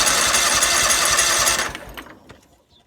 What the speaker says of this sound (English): An engine starter that tries to start the engine.